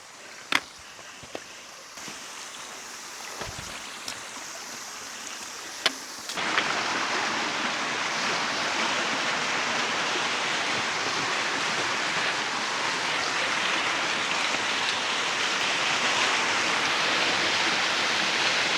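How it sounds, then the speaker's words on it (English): After a few seconds of quiet with scattered clicks, a steady rushing roar of a waterfall in New Zealand sets in and continues loud and unbroken. "Is this the waterfall that you visited, Charlie, or did you find a different one?"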